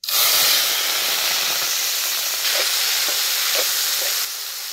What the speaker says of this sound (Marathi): टमाटो बी तेलात चांगलं भाजून घे